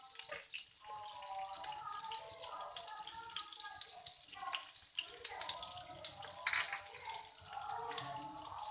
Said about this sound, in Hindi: अब इसके अंदर डाल देंगे हम 1 टेबल स्पून चॉप गार्लिक।